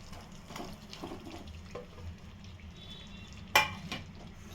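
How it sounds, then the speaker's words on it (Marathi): Fried potatoes go into a sizzling spiced dum aloo gravy, giving a soft continuous frying hiss with scattered scraping stirs and one sharp louder clatter near the end. "आता पुन्हा फ्राय केलेले बटाटे टाकूया"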